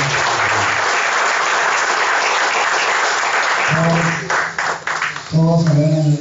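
An audience at a university lecture claps loudly and steadily, then the applause thins as a voice comes in speaking over the fading claps.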